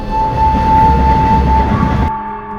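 A passenger train on the Tirupati to Kanchipuram line rolls toward Tiruttani, a steady close rumble and rattle of the carriages with a sustained tonal whine, cutting off abruptly near the end.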